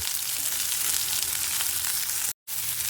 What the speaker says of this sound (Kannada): ಈಗ ಇನ್ನು ಸ್ವಲ್ಪ ಎಣ್ಣೆ ಹಾಕಿ ಫಸ್ಟಿಗೆ ಆನಿಯನ್ ಇದ್ದೀನಿ ಆನಿಯನ್ ಫ್ರೈ ಆಗಲಿ